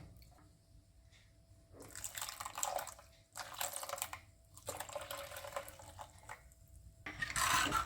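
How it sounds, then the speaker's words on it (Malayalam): Water used to rinse a mixer jar pours into a prawn curry in several separate bursts with short pauses between them, a splashing liquid sound at close range over a quiet background. "ഞാൻ ആദ്യം മിക്സി കഴുകിയ വെള്ളം ഒഴിക്കണേണ്"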